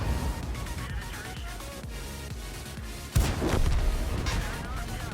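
Tank cannon fire in World of Tanks, a Cromwell B taking a shot from an SU-101: a sudden loud boom cracks out mid-clip over constant battle rumble and engine drone, ringing out briefly after.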